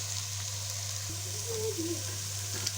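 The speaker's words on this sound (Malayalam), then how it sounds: "ഒനിയൻ ഫ്രൈ ചെയ്ത എണ്ണയിൽ തന്നെയാണ് ചെറിയ ഉള്ളി ഫ്രൈ ചെയ്തെടുക്കുന്നത്." Small shallots frying in the same oil used to fry onions for a Kabaliyat biryani give off a steady, soft sizzle close by, with a low constant hum underneath and no talk.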